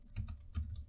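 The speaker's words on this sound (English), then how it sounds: "It's hard to type" Keys tapped on a computer keyboard during a Minecraft-style building game, a few quick soft clicks in two small bursts, close and quiet with no voices.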